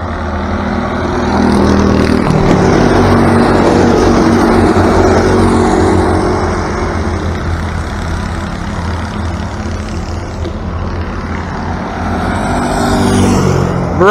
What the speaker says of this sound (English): Nicholas trying to pass Brendan.